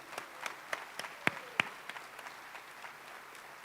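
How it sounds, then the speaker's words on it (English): Sparse, scattered clapping from a modest event audience at a Seneca Gaming Corporation anniversary celebration, individual claps standing out rather than a full ovation, fairly quiet in a reverberant room. "could I get a round of applause for our Seneca Gaming Corporation team members?"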